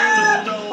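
A long-bodied oriental-type gamecock rooster crowing once, a loud, sustained harmonic call close by that tapers off toward the end, with no talking over it.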